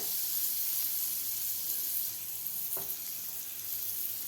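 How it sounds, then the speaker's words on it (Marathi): Pav buns toast in melted butter in a pan for Mumbai-style anda pav, giving a steady, soft sizzle and hiss that carries on evenly, with one brief scrape partway through. "बटरसुद्धा आपल्याला व्यवस्थित मेल्ट करून घ्यायचं आहे तर यामध्ये आपल्याला हे पाव भाजून घ्यायचे आहेत"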